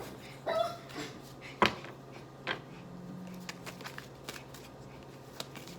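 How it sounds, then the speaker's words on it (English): Tarot cards being shuffled by hand, heard as soft intermittent riffling and patting with a few sharper snaps over a quiet room hiss; no talking. "I'm just going to keep shuffling."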